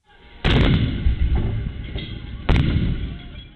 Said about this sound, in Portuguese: a câmera com áudio mostra novas explosões